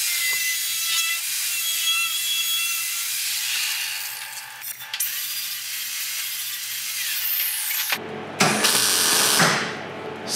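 A sheet-metal floor piece being cut on a Super 7 Locost kit car build: a sustained, loud grinding hiss runs for about eight seconds, then stops briefly and resumes as a harsher burst.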